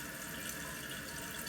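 Water rushes steadily into a toilet tank refilling after a Kohler fill valve replacement, a constant hissing flow, faint but unbroken, with no voices.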